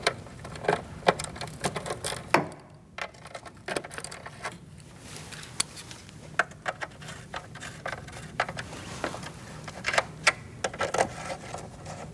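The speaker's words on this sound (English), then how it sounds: "We're going to use an 8mm socket and remove these 2 nuts." A ratchet with an 8mm socket loosens nuts on a transmission mount of a 2016-2019 Chevrolet Cruze 1.4L, producing irregular bursts of quick metallic clicking with short pauses and small knocks between them.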